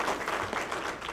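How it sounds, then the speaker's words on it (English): Brief burst of applause from an audience at the 2016 Roanoke County Golden Apple Awards, honoring the school board members; dense, steady clapping, fairly close, with no voices over it. "Let's just give them a round of applause"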